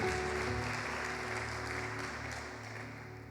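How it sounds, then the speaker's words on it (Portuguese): Church congregation clapping in praise during a worship service, a soft, diffuse patter of applause from a crowd in a reverberant hall that gradually fades, with a faint sustained hum beneath. "Você pode aplaudir o Senhor por isso?"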